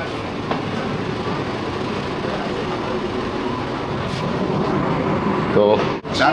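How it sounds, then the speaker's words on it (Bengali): An AC local train pulls out of Chakdah station on the Ranaghat–Sealdah line, heard from inside the coach as a steady, loud rumble with faint clicks and a brief hiss near the end. "চাকদা রেলওয়ে স্টেশন থেকে কিন্তু আমাদের ট্রেন ছেড়ে দিল"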